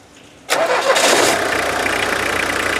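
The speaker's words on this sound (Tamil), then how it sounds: "அந்த டீசலோட அந்த கிளாட்டர், அந்த ஒரிஜினல் ஃபீல் அப்படி இருக்கு" Tata Sierra diesel engine cranks and fires after a quiet moment, catching into a loud, steady clattering diesel idle close by, with no talking.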